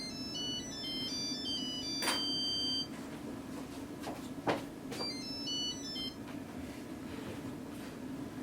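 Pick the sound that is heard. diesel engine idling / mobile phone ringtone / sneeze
mobile phone ringtone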